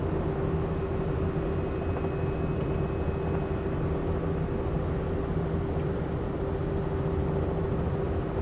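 A helicopter flying in a flight simulator game, with a steady, continuous engine and rotor drone at an even loudness throughout, with no talking.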